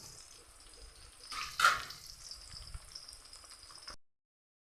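Onion and curry leaves frying in hot oil for a snake gourd gravy, a quiet, steady sizzle with a brief louder crackle near the middle before the sound cuts off.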